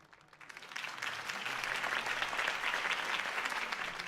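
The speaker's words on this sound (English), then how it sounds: "could have heard that applause" A crowd breaks into applause in the video game Batman: The Telltale Series, building quickly from quiet into a sustained wash of clapping that carries on without a break.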